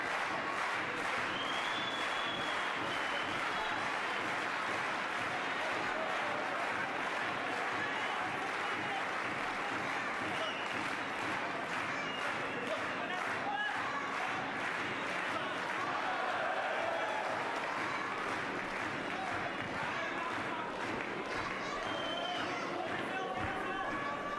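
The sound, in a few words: boxing match crowd cheering and applauding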